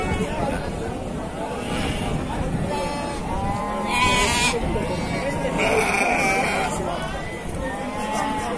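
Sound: sheep bleating at a livestock market

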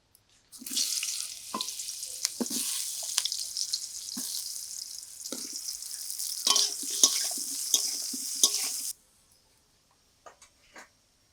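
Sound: frying brinjal in oil for hilsa curry

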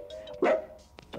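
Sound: cartoon dog barking in video game Amanda the Adventurer

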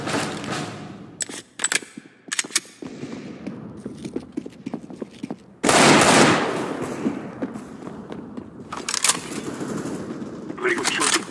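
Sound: gunfire in the video game CS:GO

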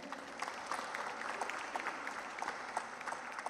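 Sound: audience applause

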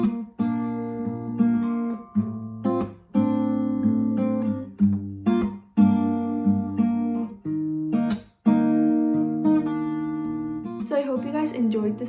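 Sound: guitar playing all four chords of a song

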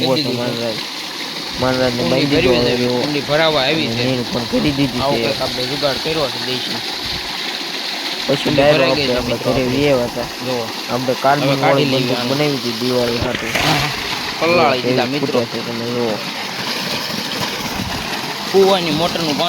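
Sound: water gushing from a well motor pump

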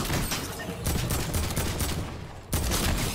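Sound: gunfire in a video game

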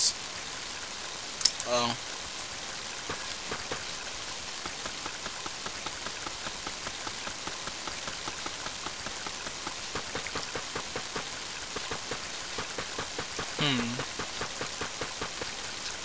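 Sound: rain sound effect from a video game

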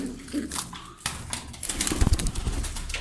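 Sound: pigeons cooing

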